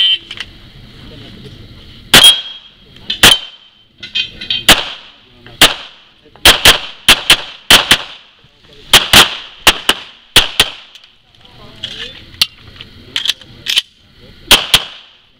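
Sharp pistol shots ring out at a practical shooting competition, about a dozen loud cracks in uneven quick succession with brief gaps, close by, with faint voices in the background.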